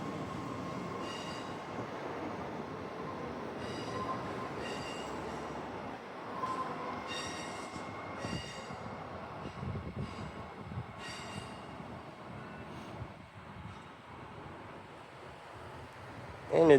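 A Perth Ellenbrook Line train rumbles steadily through a station without stopping, with rattling wheels and occasional high squeals, heard from a moderate distance, with faint voices in the background.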